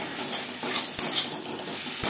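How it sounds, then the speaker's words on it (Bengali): Spices stirred together with salt and turmeric in a cooking pan for an egg and potato curry, a steady scraping and light sizzling texture running continuously with a couple of sharper utensil knocks. "মশলার সাথে লবণ হলুদ বেশ ভালো করে মিক্স করে দেবো।"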